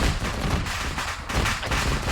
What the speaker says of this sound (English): Getting pinned by a turret.